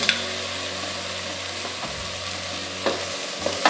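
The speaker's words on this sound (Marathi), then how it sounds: "आता हे सर्व छान आपण फोडणीत मस्त परतून घेऊ." Sprouted green moong stir-fried in a spiced tempering for bajra khichdi, a steady close sizzle with a few sharp spoon scrapes against the pan, no voices.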